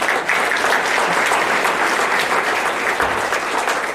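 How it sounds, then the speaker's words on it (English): A lecture audience claps steadily and loudly throughout, a dense, continuous wash of applause with no break. "Give them a round of applause."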